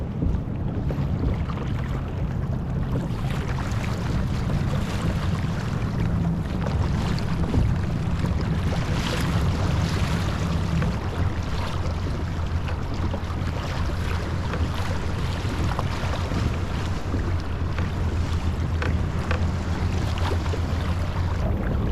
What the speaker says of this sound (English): I'm gonna wait until a couple of boats pass by